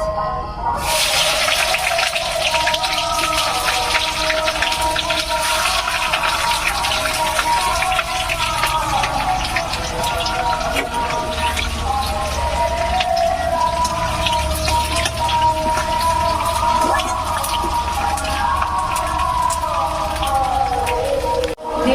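Onions hit hot oil for a pork and jackfruit curry, a loud, dense sizzle and crackle that starts abruptly and holds steady throughout.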